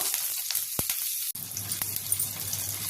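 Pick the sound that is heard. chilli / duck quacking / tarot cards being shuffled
chilli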